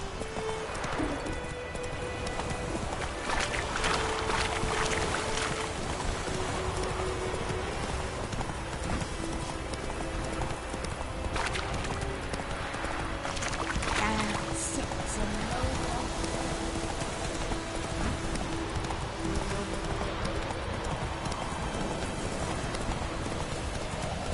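Hooves of a horse clip-clopping in The Witcher video game, a steady rhythmic trot heard close throughout with light rain-like ambience and occasional game speech over it.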